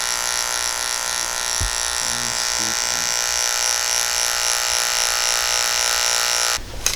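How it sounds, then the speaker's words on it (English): Electric hair clippers with a number 2 blade cutting hair clipper-over-comb during a drop fade haircut, a loud, close, steady high buzz running throughout with a few brief dips in load and a sudden change at the end. "We're going to start cutting clipper over comb now."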